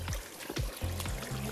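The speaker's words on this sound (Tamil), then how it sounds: "அதனால தான் வந்து தண்ணி வருது." Water trickling and pouring down rocks on a mountain trek at Parvathamalai, a close, steady gurgling stream with brief splashy surges throughout.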